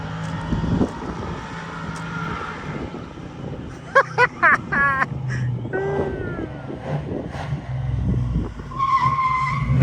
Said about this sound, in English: He's out here doing burnouts in the CRC truck.